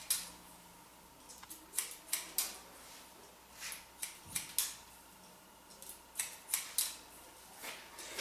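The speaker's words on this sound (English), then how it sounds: "I'm just kind of trimming this up just a little bit" Scissors trim a man's short hair in a series of quick, crisp snips, some grouped in fast pairs, close up and fairly quiet with no talking.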